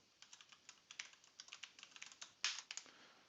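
A computer keyboard is typed on in a quick, irregular run of soft clicks, with one louder key strike near the end, close and quiet with no talk.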